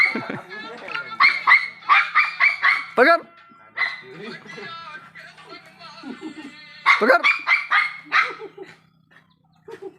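A dog named Tommy barks in repeated bursts, loud and close, while people shout urging it on over the barking.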